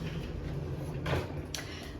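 A drawer sliding open or shut in a hotel room at the TUI BLUE Scheherazade in Tunisia, a short scraping slide with a second brief knock, fairly faint over steady room hum.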